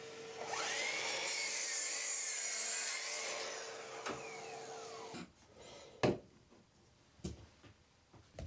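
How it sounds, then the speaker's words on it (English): Plywood being cut to size in a workshop, a saw rasping through the sheet in a sustained stroke for a few seconds, then stopping, followed by sparse knocks and clatter of the board being handled. "So what I think I'll do is I'll mount it to a bit of plywood. So I'm going to get a bit cut down,"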